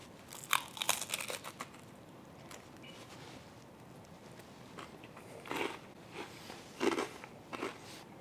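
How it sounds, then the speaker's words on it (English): Bites into crunchy crostini topped with melted mozzarella and prosciutto give close, crisp crackling crunches in a few bursts, followed by quieter chewing between them, with no talking. "I love the crunch."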